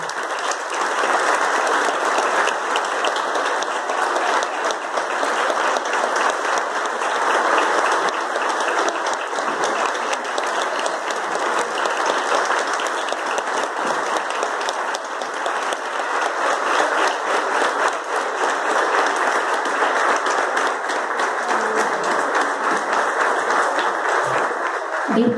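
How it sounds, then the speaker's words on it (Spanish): Sustained, loud applause from an audience at a school flag ceremony, a thick, even roar of many hands clapping without pause for the whole stretch. "Acompañamos su partida con un emotivo aplauso."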